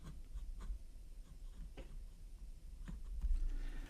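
A Jinhao 82 fountain pen with a fine number 5 steel nib scratches across paper in light irregular strokes and ticks, close but faint, over a low background rumble.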